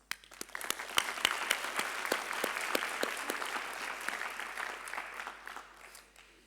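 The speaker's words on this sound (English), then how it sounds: "they deserve a big and cheerful applause." Audience at a university graduation ceremony applauding, a sustained wash of many hands clapping with sharp individual claps standing out, fairly distant and steady before slowly tapering off.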